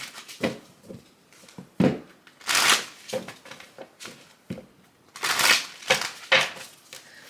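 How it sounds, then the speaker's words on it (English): Quick bursts of papery riffling and flicking as a deck of tarot cards is shuffled, several uneven rounds close by, with short pauses between them. "let's go ahead and do a quick shuffle here"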